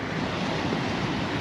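Steady surf washes onto a windy Lebanese seashore, a continuous broadband roar of breaking waves with gusting wind buffeting the microphone throughout.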